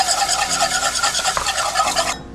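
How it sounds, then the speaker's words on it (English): Whisk stirring milk into a flour roux in a pan for nacho cheese sauce, a steady, rhythmic metallic swishing and scraping up close that stops abruptly at the end, with no talking. "I'm gonna go ahead and whisk my milk"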